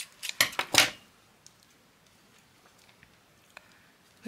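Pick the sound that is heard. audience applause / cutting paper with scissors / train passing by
cutting paper with scissors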